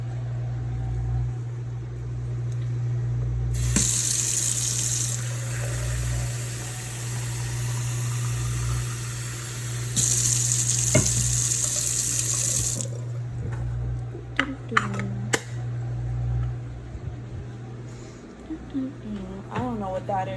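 A household water tap runs in two loud sustained bursts filling a water bottle, over a steady low hum, with a person talking and clinking handling sounds afterward.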